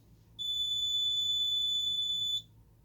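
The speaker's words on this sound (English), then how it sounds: "it does that intermittent beeping every so often" A Simplex 3001-9001 fire alarm panel gives a single steady, high-pitched electronic beep lasting about two seconds, clear and close over a low background hum.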